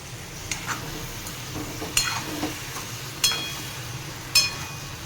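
Tomatoes fry in a pan on a stove for chutney, a quiet, low sizzle under several sharp clinks of a spoon stirring against the metal, spaced a second or so apart.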